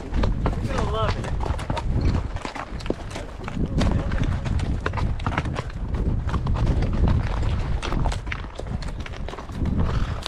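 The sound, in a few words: horse hooves clip-clopping while riding on trail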